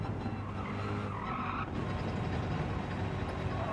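A race car in Gran Turismo 7 at the Red Bull Ring spins and skids, tires squealing briefly over a steady engine drone, no talk.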